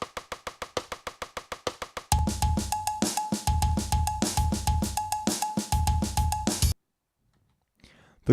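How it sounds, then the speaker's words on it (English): Guitar Pro 6 custom metronome click phrased in groups of 6-6-3, steady sharp ticks that then continue under a full drum pattern with a tonal accent, before stopping abruptly into near silence. "The click is phrased differently than the actual pattern."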